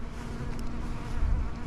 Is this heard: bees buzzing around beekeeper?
yes